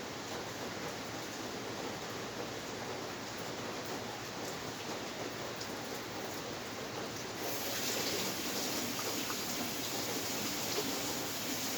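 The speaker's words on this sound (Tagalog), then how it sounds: "So, yan, maulan. Ang lakas ng ulan." Heavy rain pours down during a typhoon as a steady, dense hiss with no voices. The downpour grows a little louder partway through.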